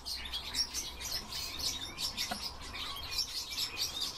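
A tree pipit (Anthus trivialis) sings a series of bright, high chirping phrases in quick succession, close and clear over quiet background.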